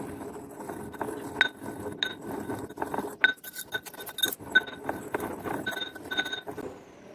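Pestle working herbal churna powder in a mortar gives repeated close clinks and scrapes in an uneven rhythm for several seconds, with no voices.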